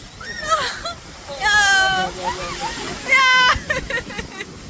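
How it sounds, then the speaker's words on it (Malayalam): A big sea wave sloshes and splashes over a crowd at a beach on an Eid outing, with excited shrieks and shouts rising over the rushing water. "വലിയൊരു തിരമാല വന്ന് എല്ലാരെയും കുളിപ്പിച്ചു"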